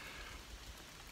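Light drizzling rain falls during a forest hike, a faint, steady soft patter with no talking.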